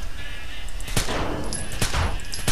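A few sharp gunshots in Rainbow Six Vegas, three or four distinct cracks spaced about half a second apart over steady game ambience.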